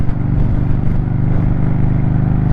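A motorcycle pulls out to overtake on a remote outback road, its engine droning loud and close in a steady, throbbing hum with a faint rise in pitch, no talk.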